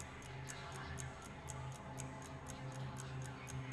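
Wall clock ticking in the video game Let Me In, soft regular ticks at a steady pace over a faint low background hum.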